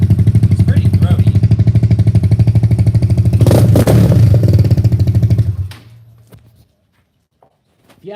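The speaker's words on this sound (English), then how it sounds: "If you ask me, it sounds like a dirt bike." A motorcycle with a cannonball exhaust runs loud and throaty up close, rises in a brief rev, then cuts off, leaving near silence before a faint voice at the end.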